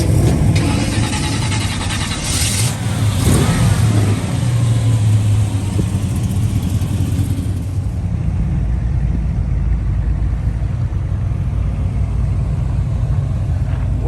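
Cars rumble and rev nearby, engines accelerating away one after another, with a steady low drone filling the whole stretch.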